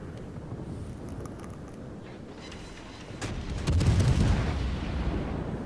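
Naval guns fire at the battleship Musashi in World of Warships, a steady rumble of sea and engine that grows into a heavier roar of distant booming salvos.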